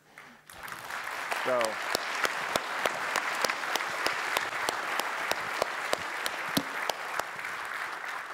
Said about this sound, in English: a big round of applause for the Linux Foundation staff